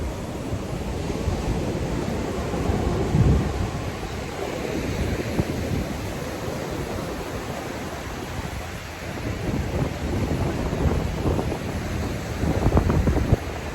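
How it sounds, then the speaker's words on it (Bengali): Strong wind roars and buffets across the microphone at Guliakhali Sea Beach in Sitakunda, Chattogram. Sea waves wash in a continuous loud rush beneath it, with gusts swelling now and then. "আর যে আওয়াজ হচ্ছে এটা কিন্তু বাতাসের আওয়াজ"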